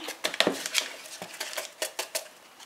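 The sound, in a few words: mixing baking powder with flour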